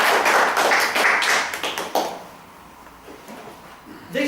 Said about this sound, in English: Give me a round of applause to Joe back.